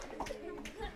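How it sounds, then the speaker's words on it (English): A classroom group bursts into a brief round of hand clapping, quick light claps layered together for about a second, fairly faint and close. "Give them a round of applause."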